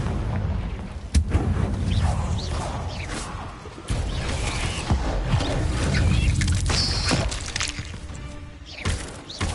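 The Confringo fire-blast spell from Hogwarts Legacy goes off in a dense run of booming, crashing impacts with rumbling debris in a game maze, a sharp blast near the start and another mid-way, loud and continuous throughout.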